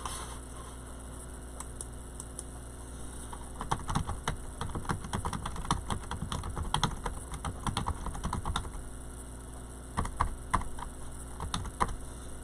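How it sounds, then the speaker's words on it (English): Fingers tap out an email address on a computer keyboard in quick, irregular bursts of clicks, with a short pause between runs, close by over a steady background hum. "I'll type it in for you. My email address is, let me see."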